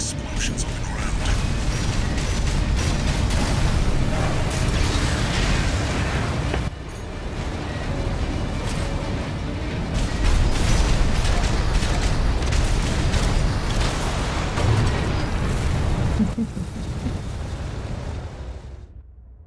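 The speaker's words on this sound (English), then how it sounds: "Use your mobility in the air to get clear of explosions on the ground." Heavy explosions and mechanical combat noise from the mech action game Armored Core VI: Fires of Rubicon. Loud, dense blasts and booms rumble almost nonstop, dipping briefly midway, while someone talks over them.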